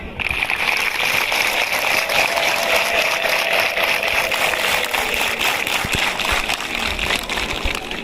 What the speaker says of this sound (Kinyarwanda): Ngaho muyihe amashyi